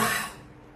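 A single short, breathy cough acted out by a man imitating an old person's chest cough, close and sharp at first, then fading quickly.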